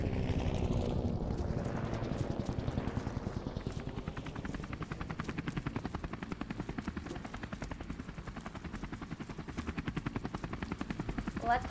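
Helicopter rotor in Call of Duty 4 Remastered, a dense steady chopping thrum that stays loud and close throughout, with faint gunfire-like cracks mixed in.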